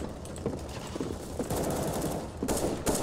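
Loud, rapid gunfire in a Counter-Strike: Global Offensive team deathmatch, automatic bursts rattling almost continuously with sharp, punchy shots near the end and little talk.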